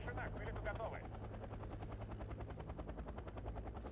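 A helicopter in the video game Wargame Red Dragon, with gunfire, its steady rapid rotor chop thumping evenly throughout, fairly faint and mixed in with game noise.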